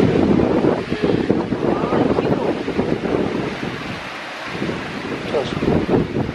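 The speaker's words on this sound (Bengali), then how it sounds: "বাইরে হচ্ছে ঝড় জল তুফান" A strong storm wind roars outside with heavy, gusting rushes that buffet the microphone. Voices are heard faintly beneath the steady blustery noise.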